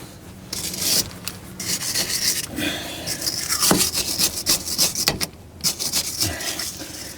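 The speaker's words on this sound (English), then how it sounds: "Now there was quite a bit of rust on the face of it, so we'll give it a good clean." Rust scrubbed off the face of a wheel bearing hub on a Ford Falcon, heard as close, rough rasping strokes in irregular bursts with short pauses, no talk.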